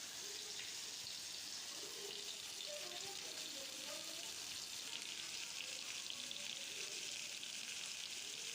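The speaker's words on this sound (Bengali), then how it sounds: "ইঁচড় আলুটিকে একটু লাল লাল করে ভেজে নিলাম" Young jackfruit and potato frying in a pan, a steady broadband sizzle throughout with faint scraping and stirring underneath, fairly quiet and continuous with no talking.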